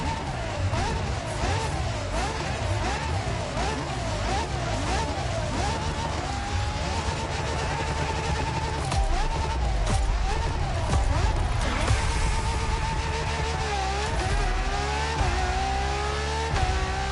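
A Ferrari supercar engine in The Crew Motorfest revs loudly and continuously, its pitch sweeping up and down through gear changes amid tire noise, with game music or effects layered underneath.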